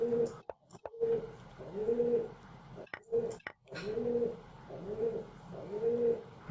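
A pigeon or dove coos over and over close by in a steady, rolling rhythm, with no talk and a few soft bumps between the calls.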